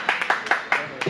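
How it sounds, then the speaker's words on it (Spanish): Several quick, sharp hand claps from a small group at a soccer training, spaced unevenly over about a second, with a voice speaking underneath. "Aplausos"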